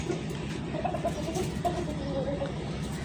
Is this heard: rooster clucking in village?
yes